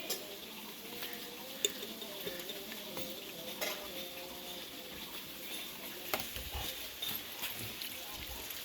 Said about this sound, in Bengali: চলো এটা মাখানো যাক আমরা এখন মাখছি